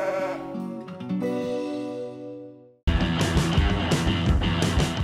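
A large flock of sheep on a working farm bleating together in a continuous overlapping chorus, close and loud, with a brief drop before the dense bleating resumes.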